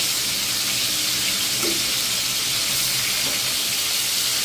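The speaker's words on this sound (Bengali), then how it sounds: "আর এদিক দিয়ে আমি মাছটাও ভাজতে দিয়ে দিচ্ছি।" Frozen fish lightly frying in a pan, a steady broad sizzle and hiss that runs unbroken at fairly close range, with no voices.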